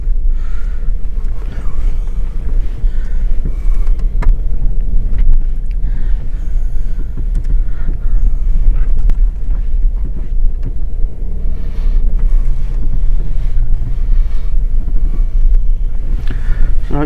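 A 2005 Jeep Grand Cherokee WK CRD diesel 4x4 drives down a dirt lane, a loud, steady low rumble of engine and road noise with wind buffeting throughout.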